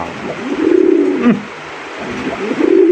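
A Rasgolla pigeon coos in a soft, throaty rolling call that swells twice with a brief dip between, close and fairly loud with no talk over it.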